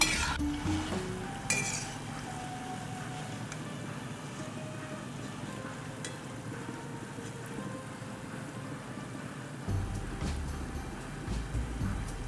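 Besan pakoras fry in hot oil while being stirred slowly to brown on both sides, giving a steady close sizzle with occasional light utensil clinks and no talking.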